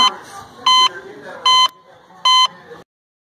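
A house alarm sounds in a tense film scene: three loud, even electronic beeps repeat at a steady pace over low background noise.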